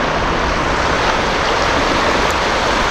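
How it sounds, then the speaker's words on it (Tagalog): Strong river current rushing loudly and continuously, a dense, steady wash of water noise close by with no talk over it. "Sa taas ay medyo malakas ang agos eh."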